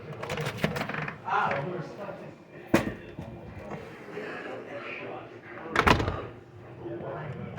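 A bar door is pulled shut by its door closer, with sharp bangs and thuds at a few points amid handling noise, while a person talks over much of it.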